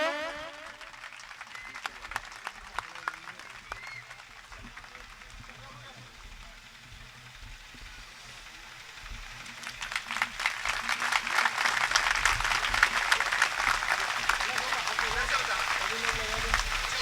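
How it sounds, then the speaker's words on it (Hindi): Applause from a gathered audience at a Bharatiya Mazdoor Sangh event, starting with scattered claps over background noise and swelling into fuller, louder clapping in the latter half. "और जोरदार तालियों से भाई साहब का सम्मान हो।"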